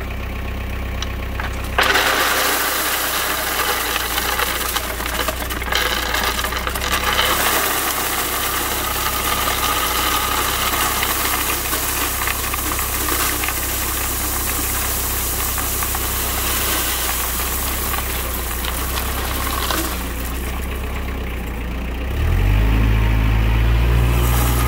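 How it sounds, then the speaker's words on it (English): A tractor engine idles and runs steadily for a long stretch on a farm railway while dumping ballast, a loud continuous rumble that shifts in tone near the end. "it is sure convenient to have a tractor nearby to just dump ballast into the ballast hoppers"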